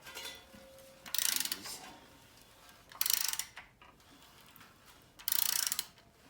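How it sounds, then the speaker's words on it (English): A ratchet fitted with a 24 mm socket turns an LS engine during a cam install, giving three separate bursts of rapid clicking with quiet gaps between them, close and clear. "Got to get the 24 socket for that. What we're going to do, we're going to turn it."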